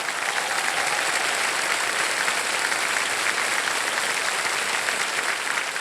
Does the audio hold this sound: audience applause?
yes